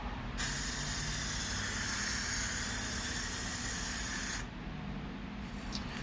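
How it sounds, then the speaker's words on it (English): Vallejo hobby paint spray can with a trigger handle, giving one continuous close hiss of about four seconds that starts and stops abruptly, then a quieter room background. "This is just Vallejo, standard Vallejo hobby paint spray can with an awesome little trigger handle on it."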